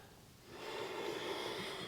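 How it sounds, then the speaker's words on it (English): Ujjayi breath during a slow yoga flow, a soft, close, ocean-like throaty exhale rising gently and holding steady for a couple of seconds, quiet and alone. "Using that Ujjayi breath"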